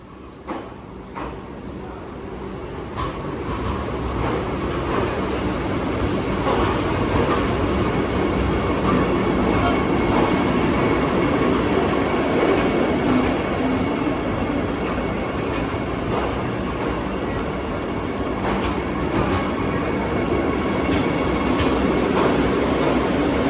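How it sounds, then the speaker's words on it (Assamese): A train rolls in and keeps running, a loud steady rumble with squealing wheels and faint clattering over the rails, building after a quieter start. "ইয়াত ট্ৰেইন আহি গ'ল"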